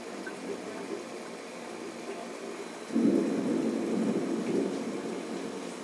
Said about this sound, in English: That's just the sound of thunder.